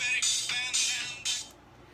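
A mobile phone rings close by with bright electronic tones in repeating bursts, about three rising phrases that stop abruptly, with no talking.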